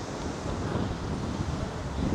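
Steady, strong coastal wind near Hingham and Scituate buffets the microphone with a constant low roar, gusting slightly, with no voices.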